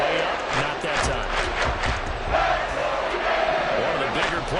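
Football stadium crowd roaring and yelling as a big third down approaches, a loud, surging mass of voices with a commentator talking over it.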